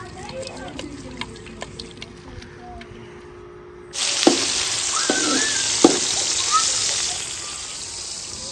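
Masala frying in a pan for a village-style dal: loud, steady sizzle starting abruptly partway through, with scraping stir clicks over it, after a quieter stretch of faint background sound.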